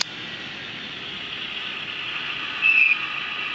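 A Fleischmann BR 612 (VT 12.5) digital model railcar with its sound decoder running a steady diesel motor hum, even and fairly quiet, holding at full volume before a short slight swell near the end, with no talk.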